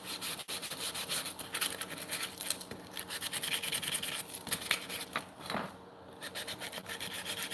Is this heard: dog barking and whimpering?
no